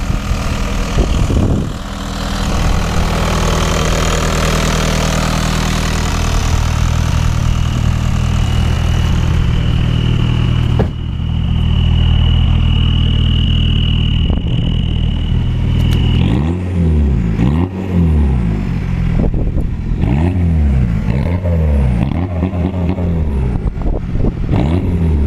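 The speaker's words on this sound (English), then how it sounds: "That's a cold start." A Volkswagen Golf Mk4 two-door with a swapped ALH TDI diesel and a 2.5-inch straight pipe cranks and catches on a cold start, then idles with a loud, steady rumble near at hand, with a few brief blips of revving toward the end.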